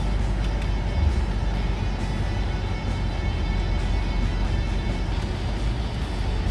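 A BMW backing out of a perpendicular parking spot, its low engine hum and road rumble steady and even throughout, close and moderately loud with no talking.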